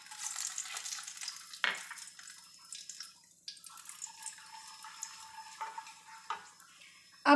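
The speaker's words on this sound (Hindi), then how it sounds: "ऑयल गर्म हो गया है, सबसे पहले इसमें डालेंगे खड़े मसाले।" Whole spices crackling and sizzling in hot oil for a white lobia masala curry, a steady frying hiss with sharp pops and spatters near the pan, ending in a loud burst.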